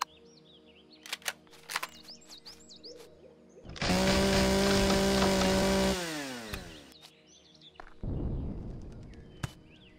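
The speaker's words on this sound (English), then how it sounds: "I need a chainsaw" A chainsaw in the Empyrion Galactic Survival game cuts into wood in a loud, steady two-second burst with a whining engine tone, set among scattered game effects and chirping ambience.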